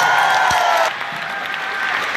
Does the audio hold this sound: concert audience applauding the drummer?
yes